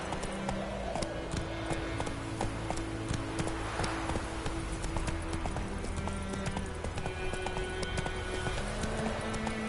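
Roach the horse galloping in The Witcher 3: Wild Hunt, rapid rhythmic hoof clip-clops on a hard surface, steady and close, over a low ambient game background.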